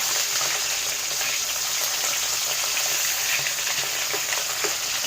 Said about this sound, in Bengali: এই মাছটা অল্পই ভাজবো